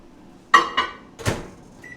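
A microwave oven melting butter in a home kitchen gives two quick electronic beeps and then a solid clunk as the door is handled, all fairly close and with no talking.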